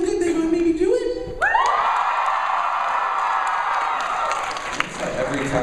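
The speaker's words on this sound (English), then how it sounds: "can you please cheer for me because it makes me feel good" An audience at a VidCon panel breaks into loud, sustained cheering and screaming that swells suddenly after a voice and carries on as a dense roar.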